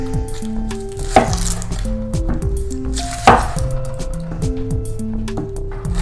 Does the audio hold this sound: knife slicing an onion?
yes